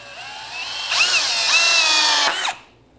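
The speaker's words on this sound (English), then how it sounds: "So I have my bit in a regular drill." A regular electric drill drives hidden fasteners into sliding door kickboard trim: the motor whirs up, strains as it rises in pitch under load for about two seconds, then cuts off.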